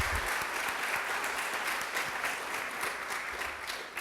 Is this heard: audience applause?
yes